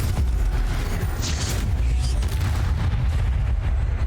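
A Confringo fire spell exploding in Hogwarts Legacy, producing a continuous loud booming rumble with dense low-end blasts that run through the whole stretch without a pause.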